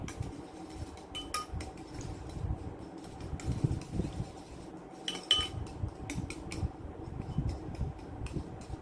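Metal utensils clink and scrape against a dish while raw fish is stirred, giving repeated light clatter in uneven bursts close by, with a steady low background hum underneath.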